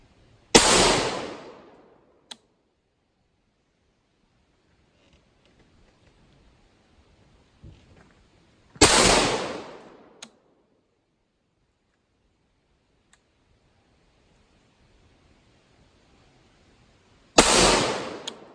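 Three loud rifle shots fired downrange, spaced about eight seconds apart, each a sharp crack with a short echoing tail, and near silence in between.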